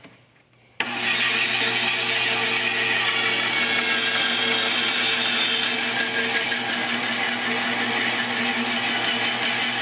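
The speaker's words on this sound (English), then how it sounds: "This is a bandsaw, so the blade is a big loop." A tabletop bandsaw with a big looped blade starts up and cuts through wood, a loud continuous whine and buzz after a brief quiet start, steady and close with no talk.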